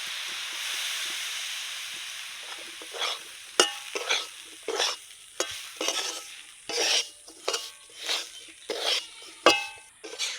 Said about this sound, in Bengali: আমি সাইড দিয়ে অল্প একটু করে জল দিয়ে সুজিটা নাড়তেই থাকবো